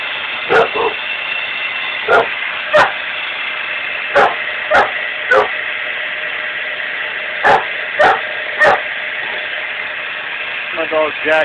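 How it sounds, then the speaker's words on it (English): A dog barks in short sharp bursts, about nine spaced barks over a steady engine idle, near and fairly loud, beside a vegetable oil filtering setup with a hose and spring wound filters; a voice speaks briefly near the end. "My dog Jackson"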